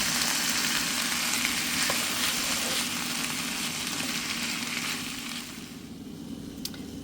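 Tomatoes added to a pan with crushed garlic fry with a steady, dense sizzle that holds close and loud, easing slightly toward the end, with no talking.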